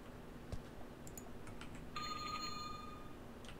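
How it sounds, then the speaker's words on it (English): A telephone ringing inside a horror video game, a bright trilling bell burst heard faintly at first and then in a sustained electronic ring near the end, over a low steady hum. "It sounds like a phone."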